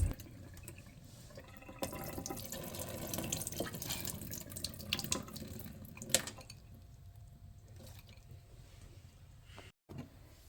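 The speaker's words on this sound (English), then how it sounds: "So now I'm going to drain the water off of this." Water pours off soaked beans into a sink, a steady splashing rush for several seconds that thins to trickles and drips before fading to near quiet.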